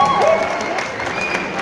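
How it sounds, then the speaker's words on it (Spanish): Brief burst of crowd applause at a rock band concert at a parish, steady clapping with a voice speaking over it as band members are introduced. "Un fuerte aplauso, por favor."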